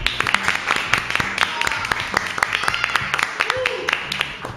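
Studio audience applause and cheering welcoming actress Dolores Fonzi onto a television talk show, dense rapid claps throughout, with a host's voice talking over it.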